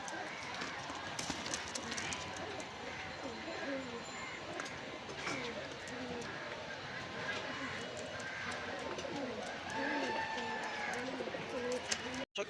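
Pakistani pigeons cooing and fluttering at a busy open-air pigeon market in Khulna, a steady layer of bird calls over constant crowd noise, with people talking nearby.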